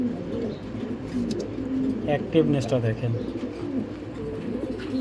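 Imported racing pigeons from Belgian and Dutch club bloodlines coo softly in low, rolling murmurs, close by, under someone speaking.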